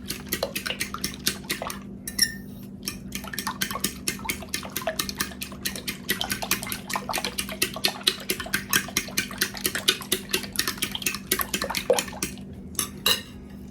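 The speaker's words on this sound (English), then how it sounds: "Get that all whisked together." Milk and eggs whisked together in a bowl for apple pie French toast, a quick steady run of metal-on-bowl clinks and taps with soft liquid sloshing, close and clear with no talking.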